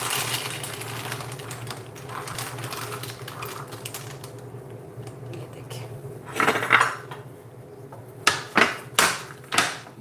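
Dry fruits clatter out of a container in a home kitchen, a few separate bursts of rattling and knocking against hard surfaces, loudest in quick succession near the end, over a low steady hum.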